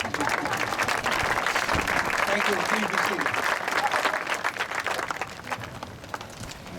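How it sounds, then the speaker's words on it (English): A crowd at an outdoor Veterans Day ceremony at Mount Soledad National Veterans Memorial applauds steadily for several seconds after the colors are retired, then the clapping thins as someone speaks over it. "You can go ahead and applaud."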